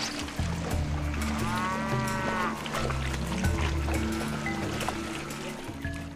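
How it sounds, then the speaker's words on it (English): Cattle in large herds on open dry-season grassland low and moo repeatedly, near and far, over steady outdoor ambience, with no talking. "Some of the largest herds of cattle in the world graze here during the dry season."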